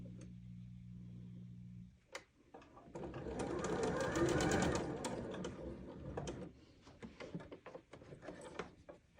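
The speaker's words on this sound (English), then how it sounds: "We line it up and we sew halfway down this seam." A sewing machine stitches partway down a quilt block seam in one loud, fast run of a few seconds, with a hum beforehand and soft clicks and handling noises after it.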